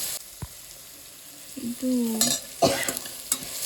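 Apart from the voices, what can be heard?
frying and stirring in a pan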